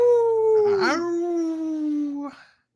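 A person mimics a dog howl with one long, wavering, drawn-out wail that dips in pitch and fades at the end.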